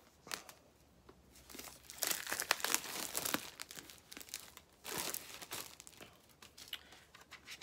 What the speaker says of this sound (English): So let me get the plastic off.